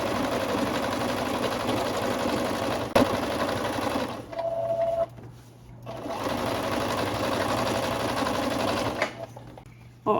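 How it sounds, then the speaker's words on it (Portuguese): A sewing machine stitches a skirt seam in loud, fast bursts of rapid mechanical clatter, pausing briefly mid-run before resuming, with brief quieter gaps between passes. "eu vou passar essa costura aqui de fora a fora"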